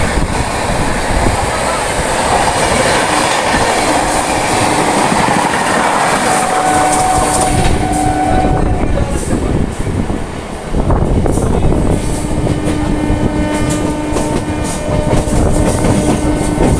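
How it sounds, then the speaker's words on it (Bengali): Howrah–Jabalpur Shaktipunj Express passing near Panagarh on the Barddhaman–Asansol line, heard from a moving train as a loud, steady roar of wheels and carriages with rhythmic rail clatter throughout. "চলে যাচ্ছে হাওড়া জবলপুর শক্তিপুঞ্জ এক্সপ্রেস।"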